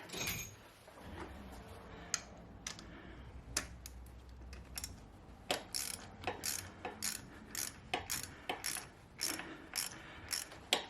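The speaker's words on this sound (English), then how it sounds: "Let me get a ratchet on it now." A ratchet wrench works a bolt on a BMW 1150GS motorcycle, clicking in close, irregular bursts of sharp pawl ticks over a faint mechanical background, with no talking.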